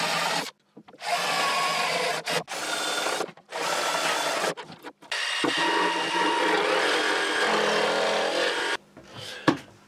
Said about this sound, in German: Wie man sehen kann, komme ich da mit der Stichsäge nicht richtig weiter.